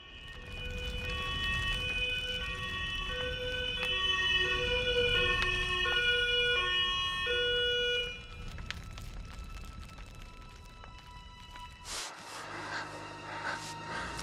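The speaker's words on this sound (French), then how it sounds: "Les sirènes." Wailing emergency vehicle sirens at an accident scene, several overlapping rising and falling tones for about eight seconds, then fading into quieter ambient noise with a sharp transition near the end.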